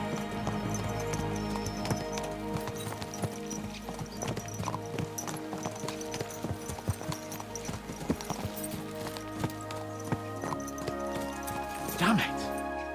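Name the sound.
horses galloping, video game Kingdom Come Deliverance 2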